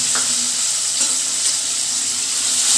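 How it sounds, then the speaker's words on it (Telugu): Onion and tomato pieces frying with salt in a pan for an okra stew, a loud, continuous sizzle with faint stirring taps throughout. "ఇలానే ఒక 2 మినిట్స్ పాటు బాగా ఫ్రై చేసుకోవాలి"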